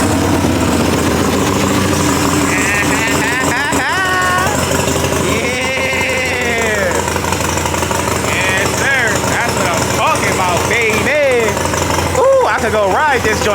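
A Harley motorcycle idles steadily after being fired up, a low continuous rumble that runs throughout while someone talks over it close to the engine.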